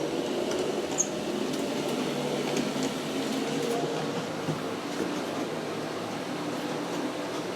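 G scale SD40-2 model locomotive pulling along track, a soft continuous motor hum and rolling rumble with faint clicks, steady and fairly quiet throughout.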